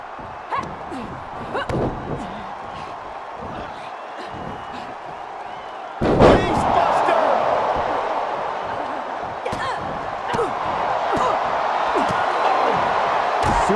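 Heavy thuds of a wrestler slammed onto the mat in WWE 2K23, Asuka against Bianca Belair, with a big impact midway followed by crowd noise and further bumps while a commentator talks over it.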